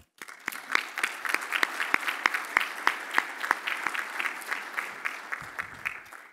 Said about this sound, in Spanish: Yo quiero, por favor, que se den un aplauso por estar aquí y por apostar por Nuevo León.